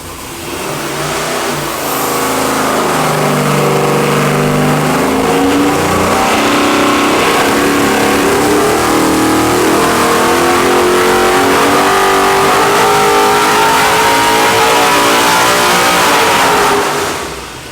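A Hoonigan 700 hp 441-cubic-inch 13.25:1 LS V8 on an engine dyno, revving hard in one long loud pull that climbs steadily and holds near the top before dropping off at the end.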